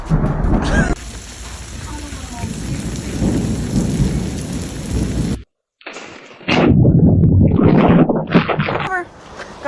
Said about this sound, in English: thundering outside.